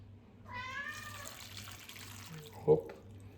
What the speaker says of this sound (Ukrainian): Он навіть кіт кричить.